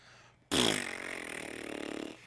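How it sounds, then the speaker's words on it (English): A long, slow fart, one continuous flapping raspy tone that starts abruptly after a short quiet gap and drags on for about a second and a half, loud and close. "Yeah, like a long, slow, sad fart."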